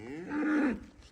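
A cow gives one clear, close moo lasting about half a second, rising and then falling away.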